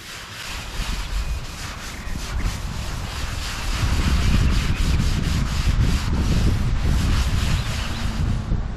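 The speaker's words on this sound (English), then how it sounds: "But I'm just going to scrub it down." A towel and Scotch-Brite pad scrub down a car, making a continuous, close, coarse rubbing that grows slightly heavier partway through and keeps going without a break.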